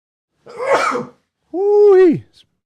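A single sharp, noisy sneeze burst, followed after a pause by a drawn-out voiced exhale, close and loud.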